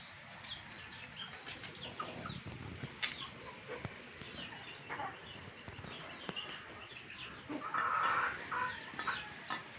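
Native chickens cluck and peck nearby in a backyard in a scattered, irregular chatter, with a louder burst of calls near the end.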